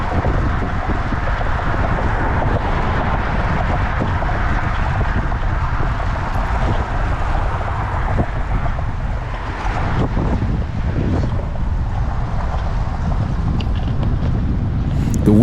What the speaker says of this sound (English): The wind is coming from the left and it's pretty much swirling around.